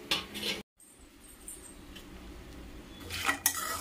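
A spoon stirs sunflower seeds roasting in ghee in a pan, making close clinks and light scrapes with a brief gap, then a busier stretch of rattling toward the end, with no voices.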